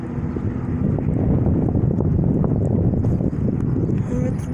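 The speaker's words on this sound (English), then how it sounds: "And it's windy too." Strong wind buffets the microphone in a continuous, loud roar, a steady blustery rush near a rural rail crossing in Archbold, Ohio, with no breaks.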